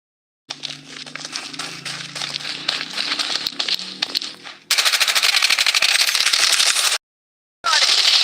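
Rapid automatic gunfire from a video game firefight, loud dense bursts running for several seconds, then a brighter, harsher stretch of continuous shots that breaks off into silence before another burst starts.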